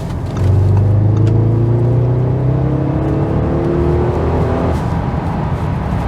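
An Audi RS 6 Performance (C7 facelift) estate accelerates hard in normal drive mode on an expressway up to 120 km/h, its engine note rising steadily and loudly from inside the cabin with a clear shift near the end.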